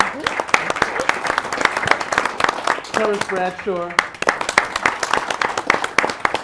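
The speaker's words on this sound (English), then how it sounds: "Let's give him a round of applause" A town-hall audience claps for panel members at an event on developing tech talent at HBCUs, a steady patter of hands throughout while a voice announces a name partway through.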